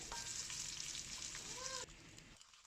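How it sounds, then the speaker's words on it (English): Pork slices and ginger sizzling in oil in a wok over medium-low heat for Sichuan twice-cooked pork. A steady, fairly quiet frying hiss runs continuously and drops off sharply near the end. "Add the ginger slices first. Then add the pork slices."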